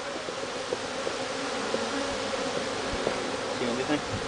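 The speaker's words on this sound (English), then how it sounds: "Oh, they're mad." Angry honey bees swarming at an opened hive, a dense continuous close buzzing hum with individual insects flying past, steady throughout with faint voices underneath.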